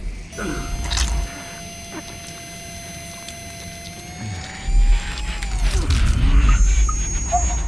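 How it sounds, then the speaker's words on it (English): Machine in Dead Space 2 digging into Isaac's brain: a loud mechanical whir with a steady tone that rises in pitch, rumbling grinding and clanking building toward the end, with no talk over it. "Isaac has to climb into the machine to allow it to dig into his brain to remove all that marker code"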